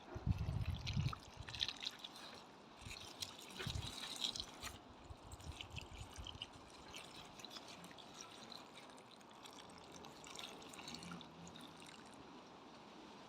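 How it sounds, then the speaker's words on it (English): Water trickles and splashes faintly onto freshly planted garden ground cover near canna lilies, with soft uneven pattering, a few louder gushes early on, then a quieter steady dribble. "And now I'm just watering it in."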